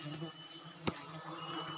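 Honey bees swarm around a wild sialang honey harvest, a continuous buzzing drone close by with one sharp knock partway through.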